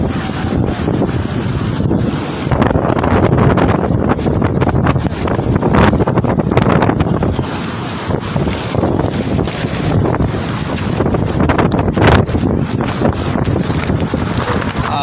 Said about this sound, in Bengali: সাগরে আসলে এত পরিমাণ বাতাস যেটা আসলে বলা যাচ্ছে না